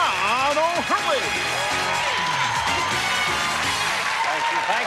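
A studio audience at the game show To Tell the Truth applauds steadily, with a dense wash of clapping under a voice speaking over it.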